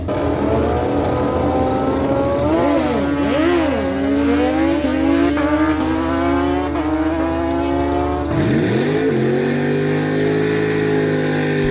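A 2007 Kawasaki ZX14 at a drag strip revs and climbs through gears in rising whines, then a second surge of acceleration near the end, loud and close with no talk.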